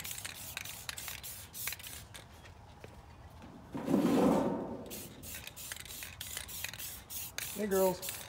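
Aerosol spray of white primer onto a repurposed DIY planter: a series of short hissing bursts, with a longer louder spray mid-clip and a brief tonal rattle near the end, heard close up with no talk.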